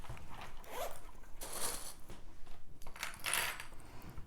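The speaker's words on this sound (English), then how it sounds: "So I'm going to put some clips." Plastic sewing clips snap onto fabric and a zipper during bag-making prep, a few short clicking bursts close by with quiet handling between them.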